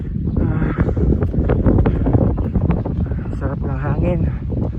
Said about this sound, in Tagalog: Sarap ng hangin, ganda ng breeze, very cool and refreshing.